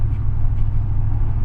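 Mercedes-Benz CLS55 AMG engine giving a steady, deep thunderous rumble from inside the car, continuous and loud throughout with no change in character.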